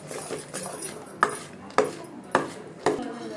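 A spoon scraping and knocking through thick Mysore pak batter of gram flour and hot oil in a pan, four sharp clacks at a steady half-second pace over softer scraping, close and moderately quiet.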